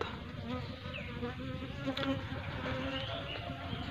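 Honey bees buzz steadily around a wooden hive box, a dense continuous hum with occasional louder passes from individual bees flying close, no voices present.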